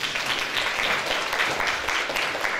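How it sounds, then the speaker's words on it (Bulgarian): Audience applause at a 2024 athlete-of-the-year awards evening, following a children's performance: dense, steady clapping from a crowd, sustained at even loudness throughout with no voices on top. "Още веднъж аплодисменти, моля."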